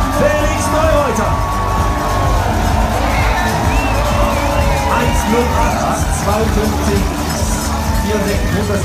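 Stadium crowd at a giant slalom ski race at the World Championships in St. Moritz, a loud sustained roar of cheering and whoops with shrill shouts and horns, a commentator's voice talking over it.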